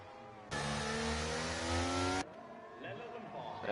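Racing car engines roar in an esports sim race, likely the Aston and the Mercedes, around turns 10 to 12 on a Spain circuit: a loud, steady, high-revving drone holds for about two seconds, then cuts off as a commentator's voice continues.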